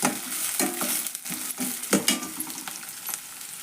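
A spoon scrapes and clatters as onion is stirred through hot oil in a pan, the close frying sizzle pulsing with each push of the spoon.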